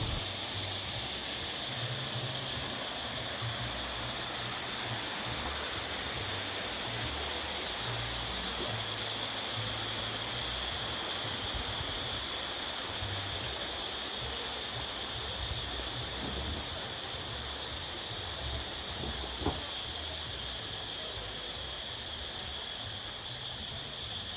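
Steady broadband rush of a stream running past an outdoor nature café near Si Racha, Chonburi, with tables set in the water, continuous and fairly close for the whole stretch, with a few faint clicks and no talk.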